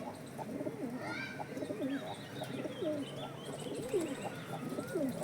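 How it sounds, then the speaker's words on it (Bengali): A female pigeon coos in low, repeated rolling phrases close by, with a few higher bird chirps mixed in over a steady background. "মাদি আছে। মাদি পায়রা।"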